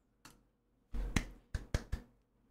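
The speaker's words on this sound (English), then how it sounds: "Hit you with the golf clap." A few soft, deliberate hand claps in a quiet room, one lone clap followed by a brief pause and then a short uneven cluster of claps, close and fairly gentle.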